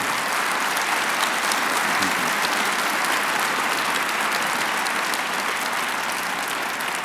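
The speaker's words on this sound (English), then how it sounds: "Let's give our two excellent presenters another big round of applause." A large audience at Lindenwood University gives sustained applause to two presenters, Ralph Nader and Grover Norquist. The clapping is loud, continuous and evenly dense from start to finish, with no talking heard.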